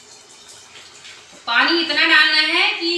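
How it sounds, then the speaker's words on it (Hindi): Water gushes into a container holding melted jaggery for a homemade organic plant fertilizer, starting abruptly and filling with a loud, rising gurgle after a quieter moment with a faint voice. "अब इसमें हम डालेंगे पानी।"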